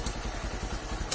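A newly bought motorcycle idles nearby with an even, chugging rhythm of rapid low pulses, loud and close, with no voices.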